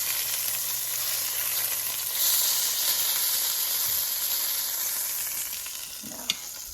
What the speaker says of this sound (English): You can hear a little bit of a sizzle in your fillet still.